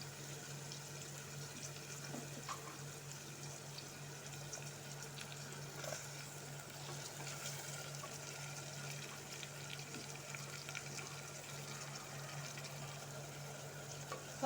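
Onion and tomato frying gently in a pan, a soft, steady sizzle and crackle with faint scraping, heard alone at a low level throughout.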